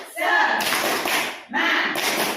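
A school audience gives a brisk 'tepuk semangat' spirit clap in two loud bursts of crowd clapping, mixed with shouted voices and separated by a short pause.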